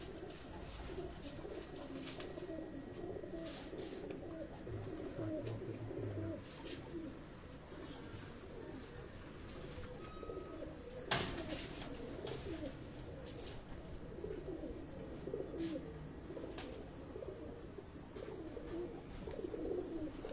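Pigeons on a rooftop coo steadily in soft, overlapping murmurs, with occasional chirps and a brief clatter, no voices present.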